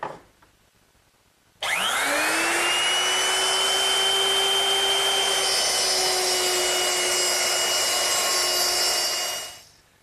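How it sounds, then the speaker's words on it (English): An electric router with a guide fence cutting a mortise in wood for a medicine cabinet, starting abruptly and whining steadily for about eight seconds before spinning down, loud and close with no talk. "I've set it up in my router with this guide fence, which controls the width of the cut"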